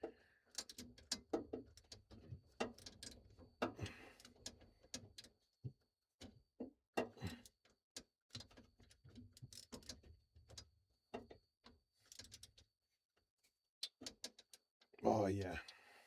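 Ratchet on a warped wobble-head extension turning a 12 mm socket on a VW bus carburetor, with quiet intermittent clicking bursts and handling noise, and a voice briefly near the end.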